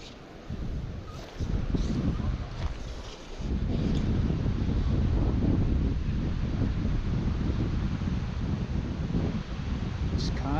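Wind gusting across a river while fishing from a drifting boat, a steady low rushing roar buffeting the microphone, quieter at first then stronger and sustained.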